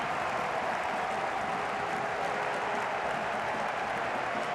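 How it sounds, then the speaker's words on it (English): A stadium crowd in St. Louis applauds steadily during a United States versus Jamaica football match, a dense and sustained roar of clapping heard from within the stands. "the crowd in St. Louis on their feet applauding this effort from the Americans"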